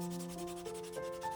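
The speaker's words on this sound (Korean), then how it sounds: "손사포질을 합니다" A 3D-printed part made from marble-effect filament is hand-sanded with sandpaper to smooth leftover layer lines, producing quick, soft rhythmic rasping strokes that are faint and close, with no voices.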